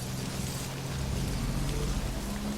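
Steady rain hisses through the scene in the video game Death Stranding, a constant wash of noise with a low motorbike rumble droning underneath for the full stretch.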